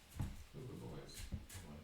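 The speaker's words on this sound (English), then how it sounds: "That was the dog on the deck." A dog on a deck whimpers and yips faintly in short bursts from a distance, under a voice talking nearby.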